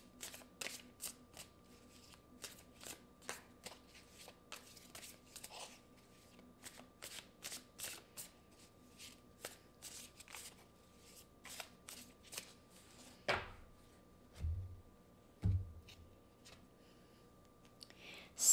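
Tarot cards shuffled and drawn up close: repeated crisp riffling bursts and soft card flicks in an irregular rhythm, a few dull thumps near the end, quiet with no talk.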